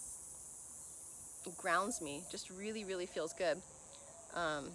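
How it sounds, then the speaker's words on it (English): Cicadas buzz as a steady high-pitched drone throughout, faint and constant in the background while someone talks over it. "There's something about the frequency of the cicadas"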